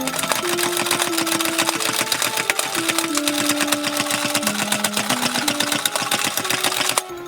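A salad spinner whirs as it spins washed lettuce, giving a continuous rattling, clicking drone whose pitch shifts up and down as the speed changes, then stops abruptly near the end.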